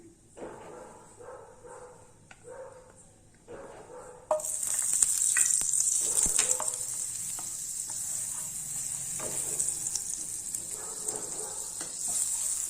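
Butter melts and sizzles in a pan on the stove, a steady bright hiss that starts abruptly partway through and continues close and fairly loud, with faint clinks beneath.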